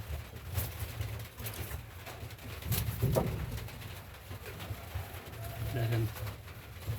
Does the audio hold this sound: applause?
no